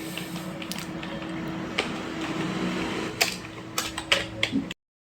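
A computer keyboard is typed on to enter a command, giving sparse clicky keystrokes over a steady mechanical hum, with a quicker cluster of clicks near the end before it cuts to silence.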